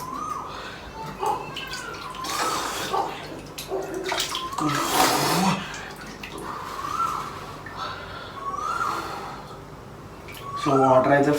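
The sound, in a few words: water from a bottle pouring and splashing down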